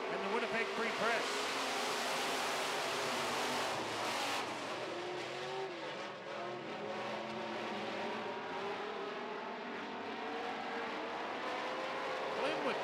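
Modified race cars roar together at a Midwest Modifieds heat race just after the green flag, with loud sustained engine drone and revving throughout, as a public-address announcer talks over the noise.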